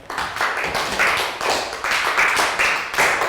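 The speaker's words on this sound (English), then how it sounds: "Round of applause for Prel." A class of young students in a Year 3 math lesson gives a short round of applause, bursts of clapping from a small group rising and falling in uneven waves, close and moderately loud.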